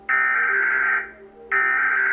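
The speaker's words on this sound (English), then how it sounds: "The one I'm used to is America's that sounds like this." The American emergency alert system tone blares as a loud, steady harsh buzzing tone, cutting off briefly after about a second before resuming just as loud, with no talking.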